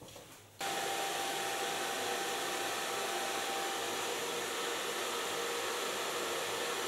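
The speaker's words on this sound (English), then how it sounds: "I'm gonna blow dry the hairs with the use of a diffuser" A hair dryer fitted with a diffuser blows on curly hair, switching on abruptly and then roaring at a steady, loud, close level without pause, with no speech.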